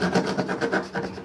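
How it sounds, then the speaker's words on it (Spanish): A coarse rasp file is drawn back and forth over a piece of gold jewelry, making a steady, gritty scraping in quick rhythmic strokes, close and fairly loud with no talking. "de lijado con estas herramientas que son raspines, creo que le llaman raspines, que son lijas fuertes"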